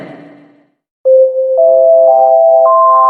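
An electronic ringtone for an airport-themed phone alert: after a short silence, steady tones sound loud and clean, then step upward in a rising sequence of sustained pitches.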